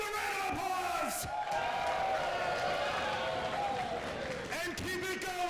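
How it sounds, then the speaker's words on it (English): Crowd at a live wrestling show breaks into loud sustained applause and cheering, with whoops and shouts rising over the clapping, and a voice calling out near the start and end. "Give them a round of applause!"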